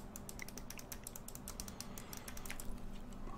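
Rapid plastic clicking, a steady stream of small sharp taps close up and fairly quiet, with no voices.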